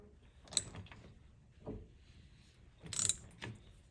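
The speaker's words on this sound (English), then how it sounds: "I'm going to hold this assembly and I'm going to turn the" A gear puller is turned with a 3/4 inch socket on a Harley four-speed transmission starter clutch gear, giving a few scattered close mechanical clicks, scrapes and metallic clunks with pauses between them.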